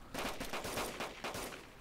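Rapid bursts of automatic gunfire from a firefight in the DayZ Standalone survival game, near and loud, repeating in an irregular rhythm for about two seconds with no talk over them.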